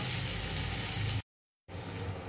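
Onion and fenugreek fry in a pan, giving a steady broadband sizzle that cuts out briefly to silence and then resumes slightly softer.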